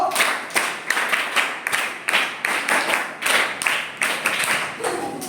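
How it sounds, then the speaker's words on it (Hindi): A classroom of students performs a scout clap, a run of loud, sharp group handclaps in a steady repeated rhythm, close by, with no talking over it. "scout Tali, let's go"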